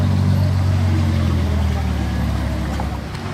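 A Ferrari F8 sports car passes along a street in Monaco, its steady engine rumble loud and close at first before easing slightly as it moves off, with background voices murmuring.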